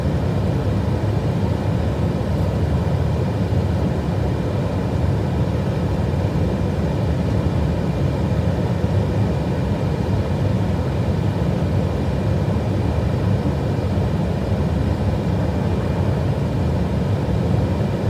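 An Airbus A320 airliner lands on runway 18R at Dallas Fort Worth airport, a steady broadband engine roar holding constant for the whole stretch, heard from a distance.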